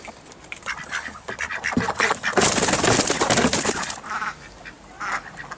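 A flock of ducks quacks noisily and continuously, with other farm birds mixed in, loudest in the middle, close by.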